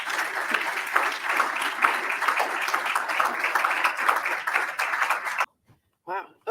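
An audience at an AUSA Coffee Series event applauds for Lieutenant General Jody Daniels, a steady round of clapping from a room full of people lasting about five seconds before stopping abruptly.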